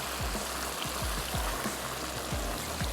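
Hot water is poured into mutton chops as they cook in a pot. The steady rushing pour fills the whole stretch, with faint low gurgles underneath.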